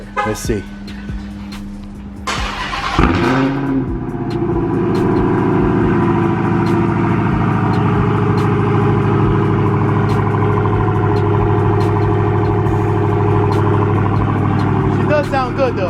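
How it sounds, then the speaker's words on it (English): Dodge Hellcat with a muffler delete cold-starting: a cranking whine, then a sharp loud roar settling into a steady, rumbling high idle close by, with someone briefly speaking near the start. "So he's gonna do a cold start of his Hellcat"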